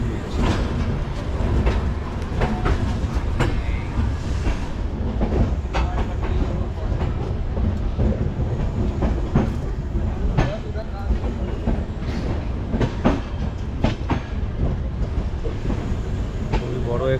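A superfast express running between Secunderabad and Raipur crosses a bridge, wheels clattering loudly and steadily over the rails with a constant heavy rumble throughout, heard from on board.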